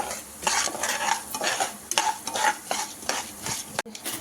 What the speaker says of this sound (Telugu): ఆవాలు, శనగపప్పు, మినప్పప్పు కొంచెం ఫ్రై అవ్వాలండి.